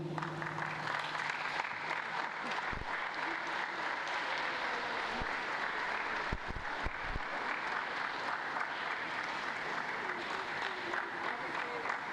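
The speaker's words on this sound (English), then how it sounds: "Can we please give them another round of applause?" A live event audience applauds steadily for about twelve seconds, a dense wash of clapping from many hands with a few sharper thumps and faint voices mixed in.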